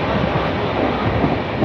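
Inside a carriage of the Howrah–Lalkuan weekly superfast express, a steady low rumble and rolling noise fills the space, continuous and fairly loud with no talk.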